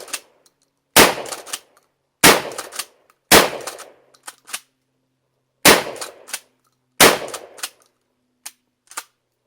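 A Kel-Tec KSG shotgun fires about five loud, sharp blasts outdoors, each followed by a short echo, spaced unevenly over several seconds.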